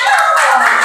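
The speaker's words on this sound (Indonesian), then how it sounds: "Tepuk tangan untuk semuanya." Clapping for a whole class of teachers-in-training in a classroom, a dense steady patter of many hands at close range, lasting under a second with no talk over it.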